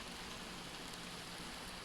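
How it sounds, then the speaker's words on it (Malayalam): Steady rain falls in the forest survival game 99 Nights in the Forest, a soft, even patter and hiss, faint and continuous, with no voices over it. "പിന്നെ നല്ല മഴയുണ്ട്."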